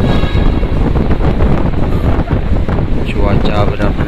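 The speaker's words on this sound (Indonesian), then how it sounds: "gelombang besar disertai hujan dan angin kencang" Strong wind and heavy rain lash a ferry crossing the Sunda Strait in a storm at sea, a loud, constant roaring buffet of gusts and spray filling the whole stretch with no pauses.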